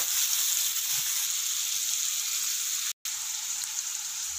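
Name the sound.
onions frying with salt in a pan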